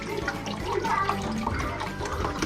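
Liquid is poured slowly into a pot of ragu, a continuous soft splashing and gurgling heard close up.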